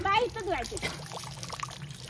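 Water pours and trickles briefly while someone's legs are washed at a home during a Ganesh immersion day, with people talking over the splashing.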